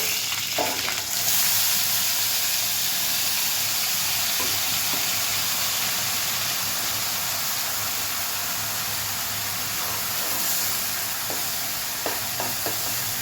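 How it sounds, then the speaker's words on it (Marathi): Onion paste fries in roughly three spoonfuls of hot oil for a spiced potato-and-pea curry, giving a steady, dense sizzle and hiss that holds for the whole stretch, with a few soft stirring knocks and no voices. "तीन चमचे एवढं तेल घातलंय. कांद्याची पेस्ट घालायची आहे."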